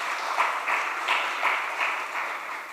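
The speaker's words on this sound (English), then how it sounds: "Thank you again to our amazing dancers. And another round of applause, please." Audience applause for dancers at a talk show event, steady clapping from a crowd with gentle rhythmic swells, moderately loud and without voices.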